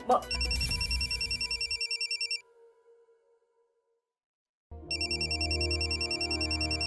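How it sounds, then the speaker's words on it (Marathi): An electronic phone ringtone trills in rapid repeating pulses, pauses briefly into near silence, then starts ringing again, loud and close. "मितूचा फोन."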